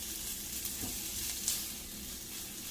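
Shrimp sizzling steadily in a hot pan for a quesadilla, a continuous close frying hiss with a few brief clicks and stirring touches, no talk.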